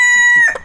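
A mottled Ancona bantam chicken gives one brief, loud, sustained call close by, cutting off sharply after about half a second.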